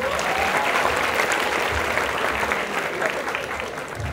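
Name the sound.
audience applause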